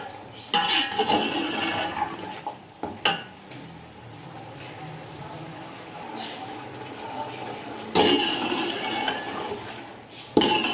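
Boiled beef and spices being stirred and fried in a pot for beef yakhni pulao, with bursts of utensil scraping and clatter against a steady low sizzle, fairly close.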